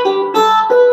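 Three chords ring out in quick succession on a 4-string cigar box guitar playing "Here Comes the Sun", each strum sustained and twangy. Close and alone.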